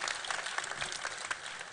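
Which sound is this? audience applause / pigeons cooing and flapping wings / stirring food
audience applause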